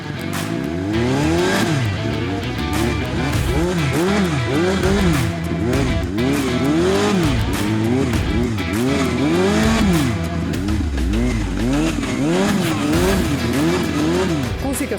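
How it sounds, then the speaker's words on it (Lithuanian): City motorcycles ridden on streets, engines revving up and down again and again in loud, continuous waves of rising and falling pitch. "pabandėme 4 motociklus. Tokius miesto motociklus, su kuriais realiai važinėjom gatvėse."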